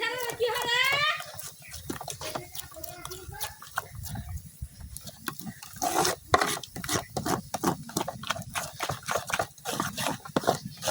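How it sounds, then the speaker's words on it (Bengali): A spoon works turmeric into gram flour batter for borinda in a village home kitchen, making rapid rhythmic tapping and scraping clicks in the second half after someone talks. "হলুদটা কিন্তু আমি খুব ভালোভাবে মিশিয়ে নিচ্ছি বেসনের সাথে"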